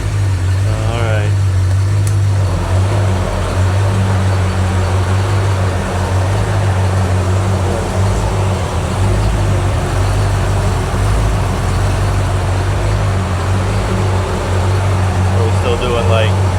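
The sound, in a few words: rebuilt Ford small-block V8 engine running at idle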